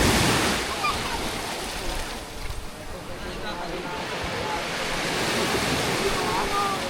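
Sea waves wash and churn around a large boat on an island-hopping trip in choppy water, a loud continuous broadband rush with wind buffeting the microphone and no clear pauses.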